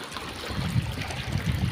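A small village stream in Konkan, India, rushes and trickles steadily close by in the monsoon season, a continuous watery hiss with no voices.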